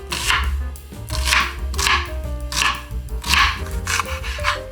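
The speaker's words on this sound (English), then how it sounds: "Right now we're gonna cut up the onions." A knife chops onions on a board in bursts of quick, loud, close thuds, several rapid strokes per burst with short pauses between, and no talking.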